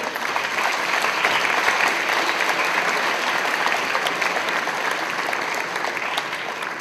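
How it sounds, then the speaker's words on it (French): Steady applause from a live audience at a French game presentation, a continuous wash of many hands clapping at even loudness throughout. "J'aimerais qu'on l'applaudisse."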